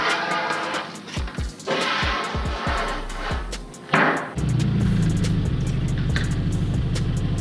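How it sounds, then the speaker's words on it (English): A Hyundai Genesis with an exhaust leak at the test pipe: a few sharp knocks and clunks give way to a close, steady engine drone that settles into a rough, even hum. "it won't be leaking because the exhaust leak sounds horrible"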